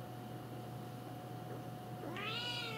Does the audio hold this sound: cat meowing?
yes